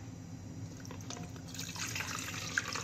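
Spiced water with dry ginger and long pepper pours and trickles through a strainer in a steady, soft liquid splash, close and quiet, with no talk.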